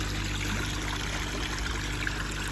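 Koi pond overflow pouring out, a steady, dense trickling and splashing of water that stays constant and close throughout with no voices.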